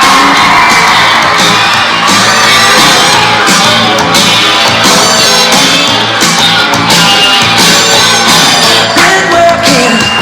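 Loud audience cheering and applause at a show, shouts, whoops and children's yells over continuous clapping, with music playing underneath throughout.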